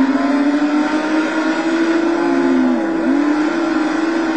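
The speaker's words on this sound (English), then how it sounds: "One of the problems with this car is that it's incredibly noisy." A loud, droning race car engine in the video game Total Immersion Racing, a Panoz Esperante GTR-1, holds a steady pitch, dipping briefly and climbing again as if shifting gears, with no voices.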